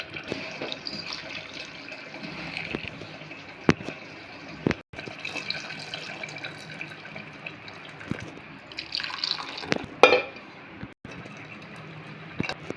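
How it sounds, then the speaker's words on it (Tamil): Water poured into a cooking pot of sautéed ingredients for karamani rice, a continuous liquid splashing and trickling at moderate distance, with a few sharp kitchen knocks interrupting it. "கொஞ்சம் நேரம் வதங்கின பிறகு இதுக்கு தேவையான தண்ணி சேர்த்துக்கலாம்."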